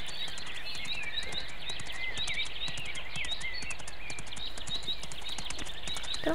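A horse's hooves clip-clop steadily while riding through a nature setting in the game Mein Pferd, an even walking rhythm over constant birdsong and ambient background, with no talking.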